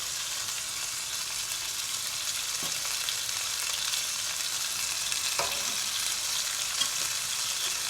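Tuna steaks sizzle steadily in a hot frying pan, a dense, even crackle that runs the whole time, broken by a couple of brief utensil clinks. No one speaks.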